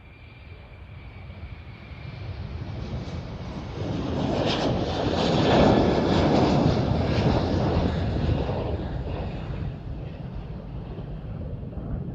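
A fixed-wing airliner takes off at Amsterdam Schiphol Airport, its engine roar building from a distant rumble to a loud, broad swell at the midpoint, then slowly fading, with some wind buffeting the microphone.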